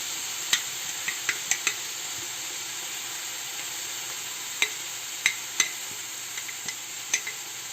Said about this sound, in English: It's hot. I'm just going to add my sauce.